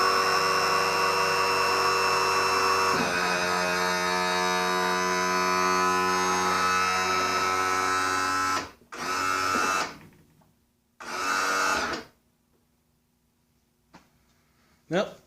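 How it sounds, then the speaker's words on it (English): Power trim and tilt motor on an Evinrude XP 175 outboard, long unused, whining loudly and steadily for about eight seconds, then two short bursts after pauses, with a quiet hum between. "So let's see how the power trim and tilt works."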